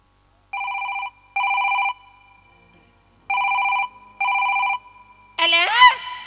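A telephone rings in four double bursts with short pauses between them, clear and close, then a voice begins to speak.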